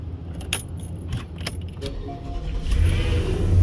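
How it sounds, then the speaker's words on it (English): A Porsche-shaped miniature key fob jangles and is turned in the ignition of a ten-year-old truck, followed by the engine catching and a low, steady rumble building near the end. "It's still got a turn-in key, even though it's not really a key. It's just a little miniature Porsche."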